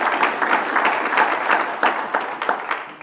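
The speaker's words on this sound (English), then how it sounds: "And that deserves a round of applause." Audience applause at a city's State of the City address in Moreno Valley, a steady stretch of clapping from a crowd, fairly close and continuous without speech over it.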